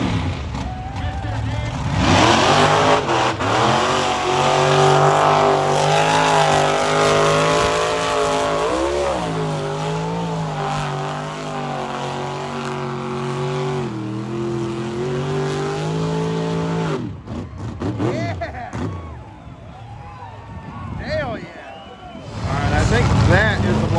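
A blower-motor mega truck revs hard in a bounty hole competition, its engine roaring loud and close with rising and falling pitch, dropping briefly near the end before surging again.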